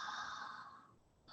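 A single breathy yawn, close and soft, with a long drawn exhale that fades out over about a second before a short breath at the end.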